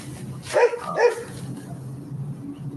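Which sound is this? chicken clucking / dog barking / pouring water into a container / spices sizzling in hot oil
dog barking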